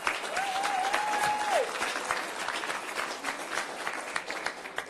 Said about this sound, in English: I want to take the time to just give my team a round of applause